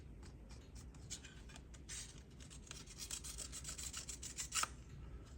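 A drill bit rasps steadily as it enlarges a hole in a plasticized playing card, a faint continuous scratchy rubbing with small irregular rises in intensity.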